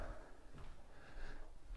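A soft-close drawer in a bathroom slides shut with a muted, cushioned bump, quiet and brief against low room noise.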